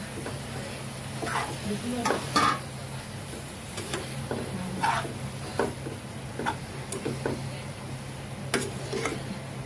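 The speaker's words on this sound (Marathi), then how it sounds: "आता ह्या मिरच्या टाकून घ्यायच्या." Green chillies frying and being stirred in a pan: a soft, steady sizzle with scattered ticks and scrapes of a utensil against the pan.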